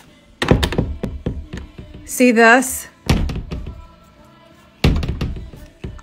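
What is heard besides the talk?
closet door being slammed shut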